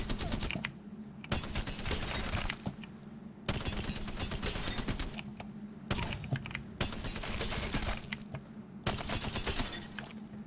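Machine gun firing a full magazine in Apex Legends, several long sustained bursts of rapid automatic fire separated by short pauses, loud and close, no talking.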